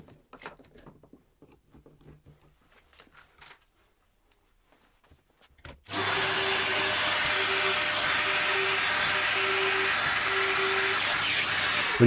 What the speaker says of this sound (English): line up the side of the jig with the side of the cabinet to get the perfect 37mm spacing, and start boring the holes